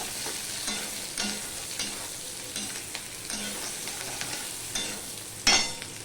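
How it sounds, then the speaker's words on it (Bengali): Small-cut capsicum fries in a pan with a steady close sizzle, broken by periodic stirring scrapes and one sharper clack near the end. "এবার ক্যাপসিকামটাও আমি ভেজে নেব ক্যাপসিকাম বেশি ভাজে না অল্পই ভাজে"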